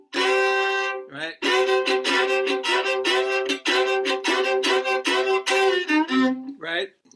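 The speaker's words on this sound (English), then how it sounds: "He's getting his fiddle out." A fiddle plays a lively run of bright bowed notes with quick repeated strokes, loud and close, with a short pause near the end.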